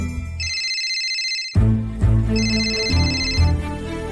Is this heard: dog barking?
no